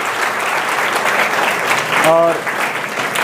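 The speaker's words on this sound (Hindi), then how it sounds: "इसके लिए ज़ोरदार ताली कर दीजिए कृषि समय के लिए।" A crowd at a motivational talk in India claps loudly and steadily, with a brief spoken word and a short tonal sound briefly rising over the applause near the end.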